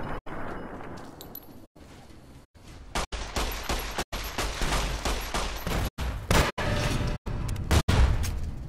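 Heavy gunfire in Fallout: New Vegas, a dense fusillade of loud, close shots firing in quick succession with repeated sharp cracks and brief pauses.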